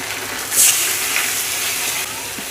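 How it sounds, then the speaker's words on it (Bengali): Turmeric, chili and cumin powder mix tipped into a hot frying pan where cut ash gourd and oil are cooking for a Katla fish broth, giving a steady close sizzle and hiss with a brief louder burst of spitting early on. "এবারে আমি যে মশলাটাকে বানিয়ে নিয়েছি হলুদ গুঁড়ো মরিচ গুঁড়ো জিরে গুঁড়ো সেই মশলাটাকে দিয়ে দিব"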